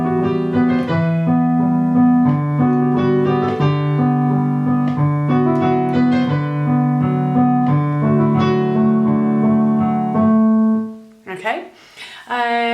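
Solo piano plays a simplified beginner arrangement of a piece from Amelie, a steady, close melody over repeating low notes that runs for about ten seconds before the playing stops.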